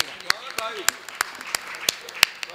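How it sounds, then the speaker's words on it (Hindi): Audience at a Hindi kavi sammelan poetry gathering in Pilibhit clapping in a steady, rhythmic beat, each clap crisp and evenly spaced, while a voice talks over it. "आप सब तालियां बजा दीजिए"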